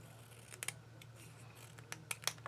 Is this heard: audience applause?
no